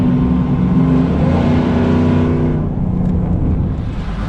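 A Chevrolet Silverado Z71 fitted with a custom stainless steel exhaust and Borla Atak muffler drives around the block, its engine droning loud and steady up close before easing back slightly toward the end.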